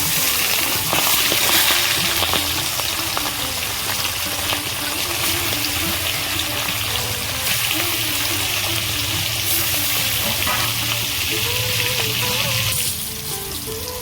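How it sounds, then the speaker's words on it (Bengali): Marinated fish fry in hot oil, a loud, continuous sizzling hiss that holds steady and eases slightly near the end, with a soft musical backing underneath and no talking. "তেল গরম হয়ে গেছে মাছগুলো ভেজে নেব"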